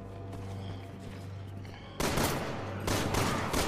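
Heavy gunfire erupts in Resident Evil 6, dense broadband bursts of rapid shots starting abruptly midway and continuing loud to the end after a quieter stretch of game ambience.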